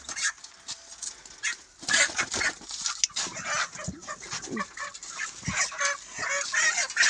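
Chickens packed into a crate cluck and squawk in a busy, uneven stream, fairly close, with scattered rustling and clatter around them.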